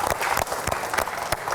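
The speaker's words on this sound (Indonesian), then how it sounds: "Baik, kita berikan tepuk tangan." An audience claps briskly in a brief burst of applause at an Indonesian televised election discussion, steady and fairly close.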